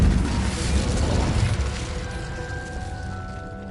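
Incendio fire spell cast in Hogwarts Legacy, a loud burst of whooshing flame at the start that fades into a crackling, ringing tail over a few seconds.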